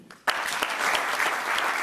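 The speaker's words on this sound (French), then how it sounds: "je vous prie de les applaudir" An audience at a closing ceremony for African craft trainees in Rabat breaks into sudden, loud applause for the craftswomen, a dense wash of many hands clapping together that holds steady after a brief quiet start.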